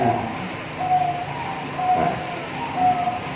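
Soft, rhythmic cooing from a zebra dove, repeated three times at regular intervals over a faint background hum.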